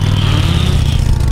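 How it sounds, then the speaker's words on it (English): A loud motorcycle engine revs hard and steadily throughout a short burst, its deep rumble close and continuous, as an animated character races through a chase scene. "I like my motorcycle loud and fast"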